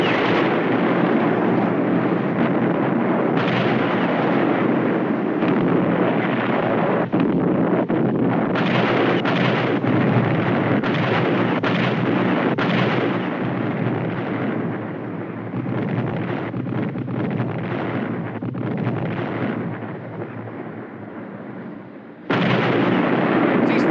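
Ship's guns firing in a naval battle, a dense, loud, continuous barrage of booming roar that dips briefly near the end before surging back.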